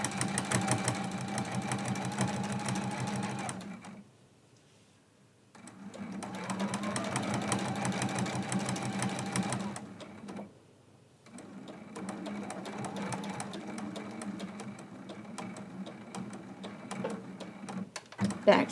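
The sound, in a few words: sewing machine stitching quilt block corner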